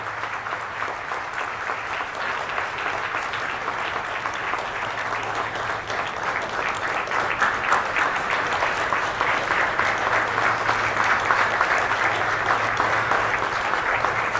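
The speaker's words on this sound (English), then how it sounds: "May I request you all to please put your hands together to applaud all of our awardees one more time." An awards-ceremony audience applauds the honorees at a formal evening gala, a long, even wash of many hands clapping that swells slightly toward the end, with no talking.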